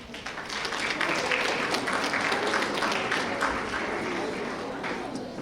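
Sustained audience applause at a middle school awards ceremony, a dense even wash of clapping that holds steady for several seconds and tapers slightly at the end.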